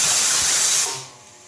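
Steam hisses loudly and steadily from a pot of boiled okra in a home kitchen, then drops off sharply to a faint, low hiss after about a second.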